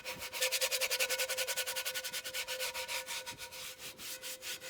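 A cast iron pan is scrubbed with paste to lift rust, giving steady, fast back-and-forth rubbing strokes. The strokes sound close and rhythmic and continue without pause.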